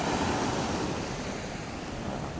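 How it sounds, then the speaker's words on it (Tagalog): Sea surf crashing and washing continuously with steady wind noise, a dense unbroken roar close to the microphone with no voices. "Ang dagat, oh."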